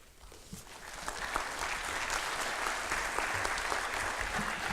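At a senior awards night, the crowd breaks into applause that swells from a few claps into a full, steady roar of hands and keeps going evenly for several seconds.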